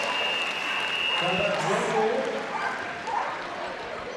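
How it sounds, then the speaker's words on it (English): Dogs barking and yapping at a flyball team competition at a large indoor dog show, scattered distant barks within a noisy arena crowd while a commentator keeps talking over them. "you can hear them yapping away down there, having a right old bark"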